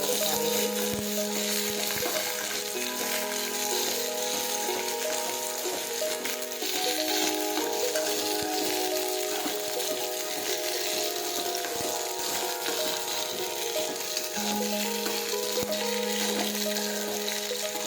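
Gunda with mustard seeds and cumin sizzles steadily while being sautéed in a pan, a continuous close frying crackle with faint tonal hum in the background and no talking.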